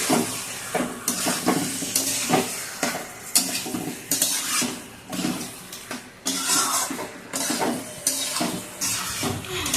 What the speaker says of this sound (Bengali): এখন একটু কষানো হচ্ছে